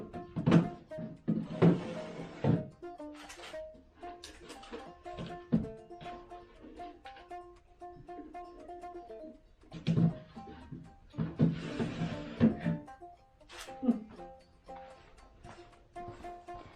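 Wooden drawers slid into a vintage vanity, a string of knocks, scrapes and thumps as each drawer is fitted, spaced out over the span with quiet gaps between.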